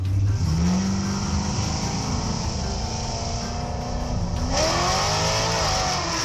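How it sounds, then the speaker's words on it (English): A classic Chevrolet drag car revs and accelerates hard as it loses control, its engine pitch climbing, sagging, then surging again in a loud continuous roar with no voices. "a classic Chevrolet loses control and ends up in the ditch"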